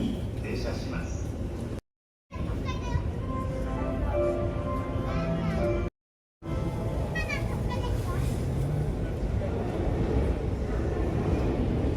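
Ride aboard a Chuo Line train from Akihabara to Shinjuku, with a steady low rumble of the carriage rolling on rails throughout, a person talking over it, and the sound cutting out briefly twice.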